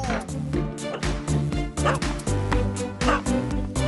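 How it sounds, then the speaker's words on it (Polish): A small cartoon dog yaps and barks repeatedly in a Polish children's animation, short bright barks over background music. "Kiedy opiekujemy się Mosią, pieskiem babci, karmimy ją, bawimy się z nią."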